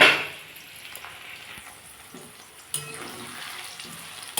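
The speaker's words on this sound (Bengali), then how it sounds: "পেঁয়াজ সবই দেখুন ভাজা হয়ে গেছে" Onions and potatoes fry in a pan with a steady, soft sizzle, broken by a couple of louder scraping stirs near the middle and end.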